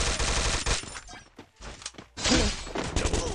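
Bursts of rapid gunfire from a FAMAS rifle in a video game crackle in quick succession, pausing briefly before another loud volley erupts, with a synthetic, game-like punch.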